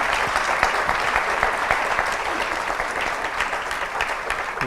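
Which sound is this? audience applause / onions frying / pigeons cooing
audience applause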